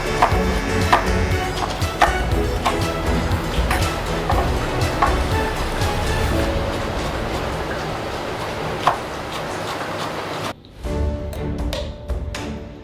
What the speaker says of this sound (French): nous allons garder que la peau des citrons confits. Donc ça, nous allons le tailler finement.